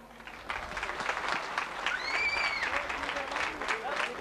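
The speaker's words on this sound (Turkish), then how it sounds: "Kurupınar için bir alkış alabilir miyim?" An audience applauds at an outdoor cultural and arts festival in a Turkish town, a steady spread of clapping lasting several seconds, with a faint whistle over it.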